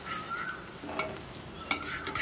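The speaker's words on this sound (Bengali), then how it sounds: "ডিমটা ভাজা হয়ে গেছে" An egg mixed with onion fries in a pan as the cook stirs it. There is a soft steady sizzle, scraping stirs and a couple of sharp utensil clinks against the pan, all close by with no talking.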